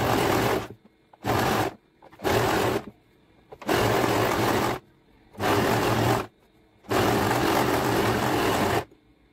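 A sewing machine stitches a blouse sleeve made from saree cloth in six loud bursts of whirring, each lasting about half a second to two seconds, separated by short pauses, heard up close with no talking.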